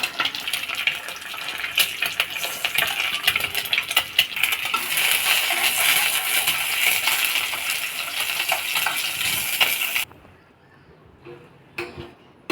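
An egg frying in a pan at home gives a steady, dense sizzle that runs for about ten seconds, then cuts out, leaving quiet with a couple of faint clinks.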